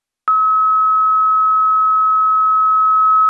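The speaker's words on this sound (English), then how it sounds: "And this is what a pulsar sounds like." Sonified pulsar, a spinning neutron star, rendered as a steady pure electronic tone that starts abruptly and holds at constant loudness for about three seconds, loud and clean, with no voices.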